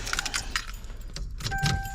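Car keys jangle in a few short metallic bursts close by inside a Toyota Supra mk4 during an alarm system install, and a faint electronic tone starts near the end.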